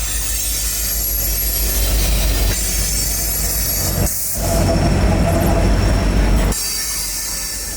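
Norfolk Southern freight train 65Q rolls past near the south end of Oakdale yard, a loud continuous rumble of railcars with high wheel squeal and a shifting roar as cars pass close by.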